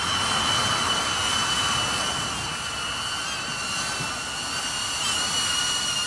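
A Hover Air X1 Pro Max drone flies back toward its operator, giving a steady high-pitched whine with tonal harmonics over a constant airy rush, fairly close and unbroken.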